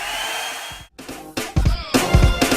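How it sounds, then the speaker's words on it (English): A Revlon One Step brush blow dryer runs with a steady airy whine, then cuts out briefly and restarts amid handling noises and bumps, staying close and fairly loud. "it's a brush blow dryer"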